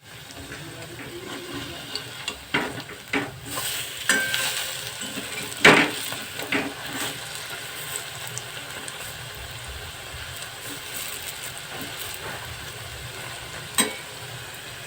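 Kalai lentil fritters fry in a wok of hot oil for a traditional village Bengali dish, a soft steady sizzle with scattered stirring clinks and scrapes, louder in the first half.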